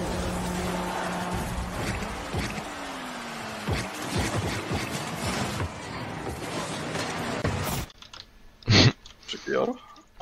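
Quick, steady clicking of laptop keys over a noisy background with voices, stopping near the end, followed by a couple of short, isolated sounds.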